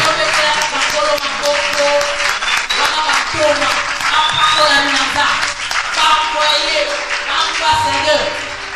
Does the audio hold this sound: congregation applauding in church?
yes